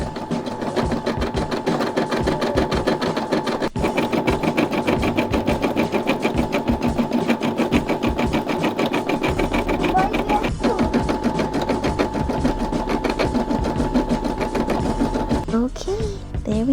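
A Brother SE600 embroidery machine stitching letters onto a patch makes a loud, fast, steady mechanical whirring and clatter close by, changing pitch briefly near the end.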